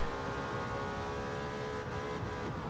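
A race car engine held at full throttle in the racing game Gran Turismo 7 at Watkins Glen, a constant loud droning roar from start to finish with no talk.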